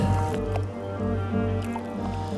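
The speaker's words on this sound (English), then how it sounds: "so we took one last crack at panning" River water sloshes and swirls in a gold pan beside a riverside campsite during a cold hailstorm, with soft wet squishing and trickling close up under a constant low background rumble.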